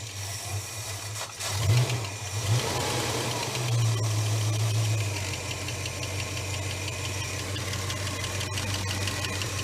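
A boat engine at cold startup, running with a lifter tick, idles steadily and loudly close by, with a brief rev near the start before settling into a continuous rumble.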